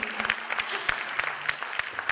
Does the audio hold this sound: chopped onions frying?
no